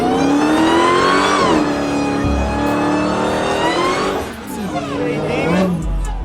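A Maserati accelerates down a drag strip, its engine revving loud and close with rising then falling harmonics and a sweeping pitch as it passes, crowd noise and voices mixed in.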